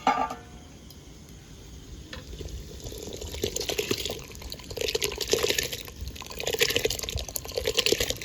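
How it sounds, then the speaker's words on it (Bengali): Soaked biryani rice for chicken dum biryani pours into a pot of water with soft splashing, trickling and stirring sounds that build gradually, quiet and close. "ঢাকাটা এখন তুলে চালটা দিয়ে দেবো"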